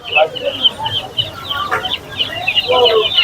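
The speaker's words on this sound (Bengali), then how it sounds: "এগুলো একশো কুড়ি এগুলো হাইব্রিড মুরগি" Hybrid chickens at a busy Bengal village market cluck and squawk repeatedly close by, with scattered bird calls and market chatter in the background.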